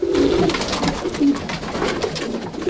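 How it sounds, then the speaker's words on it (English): Roller pigeons coo in a loose flock nearby, repeated low throaty coos over a rustle of wings and background bird noise, fairly loud and close with no talking. "look at the rollers. We got rollers everywhere"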